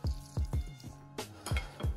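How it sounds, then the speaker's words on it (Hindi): Lemon being squeezed by hand into a whole-chicken marinade of ground garlic, ginger and green chilli, giving several short wet squishes and drips in an irregular rhythm, close and fairly quiet with no talking. "ये जो लेमन मैंने आपको बताया था इसको अच्छी तरह स्क्वीज कर लें"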